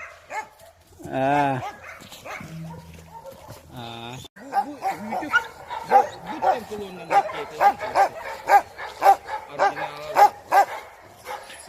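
Hunting dogs in a kennel in Yakutia, trained on bears and moose, bark and yip repeatedly in a fast, loud run of sharp barks, with a whimper early on and people talking nearby.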